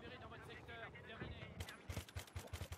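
Bursts of MG-36 machine gun fire in a video game, a rapid, fairly quiet string of sharp shots that follows a stretch of talking.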